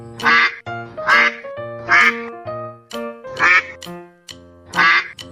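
A duck quacks repeatedly in loud, nasal bursts, about six rhythmic calls close by with brief pauses between them.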